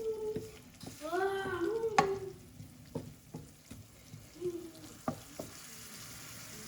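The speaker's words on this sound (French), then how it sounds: "je remue d'abord ma sauce" Sauce being stirred in a cooking pan, with intermittent scraping and clinking strokes over a soft sizzle, moderately close and fairly quiet, no voices.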